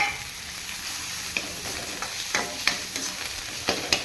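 Chilli powder, ginger-garlic paste and salt frying in a pan, a steady sizzle with several sharp spatula scrapes and taps against the metal at irregular intervals.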